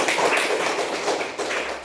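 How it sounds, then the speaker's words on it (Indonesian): Schoolchildren in a sixth-grade classroom applauding a classmate, a dense, continuous patter of many hands clapping together, moderately loud and fairly close, lasting under two seconds. "Kita tepuk tangan dulu untuk Erja"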